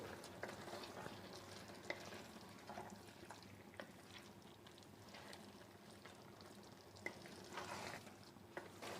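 Cabbage curry with fish head is stirred in a pan over the heat, soft repeated scraping strokes of the spoon over a low sizzle, fairly faint and without talk.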